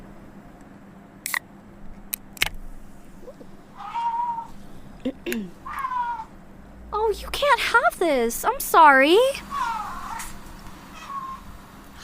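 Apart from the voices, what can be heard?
cat meowing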